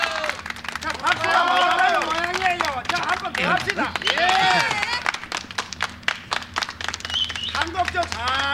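An indoor crowd claps together in sustained applause under loud singing and talking voices at a lively 1980s Korean gathering, continuous throughout.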